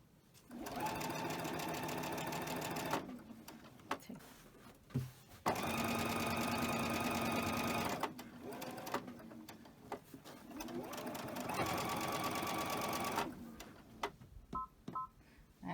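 A sewing machine stitches cotton quilt fabric in three long, steady whirring runs separated by short pauses, loud and close, with a few light clicks at the end.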